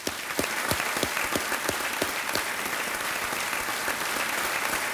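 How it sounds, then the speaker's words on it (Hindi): Studio audience applause on the game show Kaun Banega Crorepati, a loud, continuous roar of clapping from a large crowd, with a few sharp, evenly spaced accents standing out in the first half. "तालियां बज जाए इनके लिए।"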